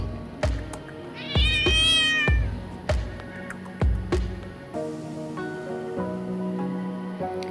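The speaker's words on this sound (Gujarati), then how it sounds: "બિલાડી મ્યાઉ મ્યાઉ બોલે છે." A cat meows loudly several times in close succession, with one long drawn-out, wavering cry among shorter calls, then softer mews over a steady background hum.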